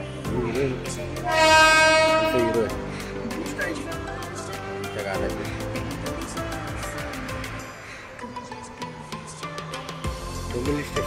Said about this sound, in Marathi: आता इथून 8:30ची कर्जत ट्रेन आहे.